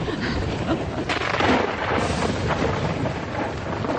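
Heavy rumbling thunder from a strong dry-season storm beside the Zambezi River, rolling and booming near and loud through several seconds over a steady wash of wind or rain, with no talking.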